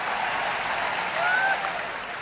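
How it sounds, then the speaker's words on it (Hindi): A crowd claps at a Hindi comic poetry gathering (hasya kavi sammelan) in Kota. The applause is a continuous, moderately loud patter that swells slightly midway. "जरा ताली बजाओ तो"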